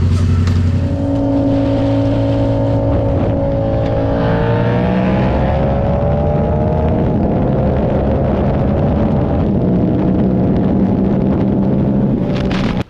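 A Yamaha R6 sport motorcycle engine revs hard and pulls away, a loud sustained high-pitched wail climbing through the gears beside another bike, close and continuous with no talk.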